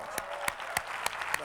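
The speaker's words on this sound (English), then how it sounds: "Give Ron a round of applause." Sparse, evenly spaced handclaps at a business presentation, about five distinct claps in a slow, steady rhythm over a quiet room.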